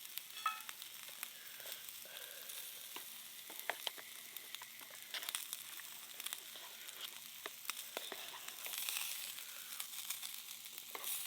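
Food sizzles and spits in small camp pots and a fry pan over a bush campfire at sunset, a steady faint crackle broken by sharper pops, with occasional stirring and scraping and no talking.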